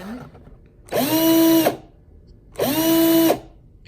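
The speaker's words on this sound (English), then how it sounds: "it's ready to drill the hole." Two bursts of a power drill whirring at high speed into wood, each lasting under a second with a pause between, close by; a brief word is spoken before the first burst.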